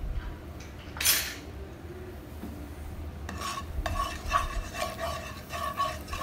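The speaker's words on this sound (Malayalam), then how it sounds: "എല്ലാം കൂടി നമുക്കൊന്ന് മിക്സ് ചെയ്യാം." Spoon stirring turmeric and chili powder with a pinch of salt in a heating pan for egg curry: scraping and clinking strokes of utensil against metal, moderately close, with faint sizzling and no talk.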